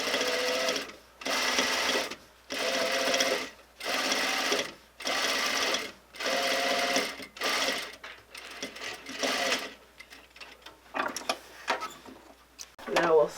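A sewing machine stitches an invisible zipper close to its coil beside a welt cord, running in seven steady bursts with short pauses between them, followed by quieter handling and rustling of the fabric.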